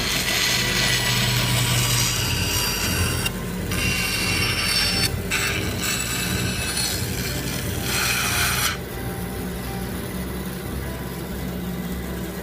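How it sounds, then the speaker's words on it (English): A bandsaw cuts wood for a wall cabinet with a steady, close mechanical whir and grinding rasp. Brief breaks in the cutting sound come through as the blade works through the board, and no one speaks. "Now I'm going to go to the bandsaw and cut this as straight as I can."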